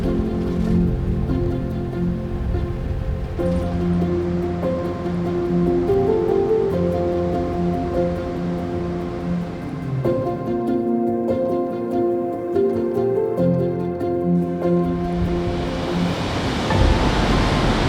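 Surf rolls onto Ninety Mile Beach in New Zealand, a constant broad wash of breaking waves heard close and loud, with a running vehicle's low hum underneath and a fresh surge of water near the end.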